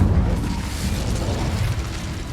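An Incendio fire spell blasting in Hogwarts Legacy, a loud sustained roaring whoosh of flame with deep rumbling body that holds steady for a couple of seconds before easing slightly, heard alone.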